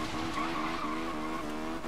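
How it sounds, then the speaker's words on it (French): A Nissan GT-R engine in Forza Horizon 3 drones steadily and close, its wavering tone rising and dipping with throttle while tires squeal, continuous for about two seconds with no talk. "On entend bien ton moteur."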